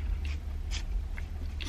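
Crunchy Taco Bell tacos bitten and chewed inside a parked car, several short crisp crunches spaced apart over low steady background rumble.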